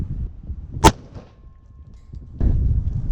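A single sharp, loud gunshot cracks once at a wrecked police car, a brief broadband burst standing alone, followed by quieter rumbling background noise.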